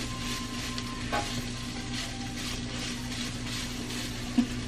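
Cabbage and meat for a keto egg roll bowl cooking down in a pan: a steady, faint sizzle under a constant low hum, with a small clink near the end and no talking.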